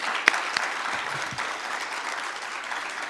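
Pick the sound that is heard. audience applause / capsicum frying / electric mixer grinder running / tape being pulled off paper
audience applause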